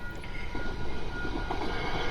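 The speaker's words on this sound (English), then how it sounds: "And we've got a train going fast across the crossing" A fast train in the Train Sim World 2 video game sweeps over a level crossing, giving a steady, loud rumble and rushing roar with no pause and no voices.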